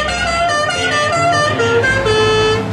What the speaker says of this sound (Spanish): tocan el claxon y el claxon es la rolita del Padrino